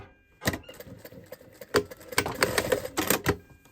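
Sewing machine stitching a seam along a fabric cushion cover with a zip closure, running in short close bursts with brief pauses between runs.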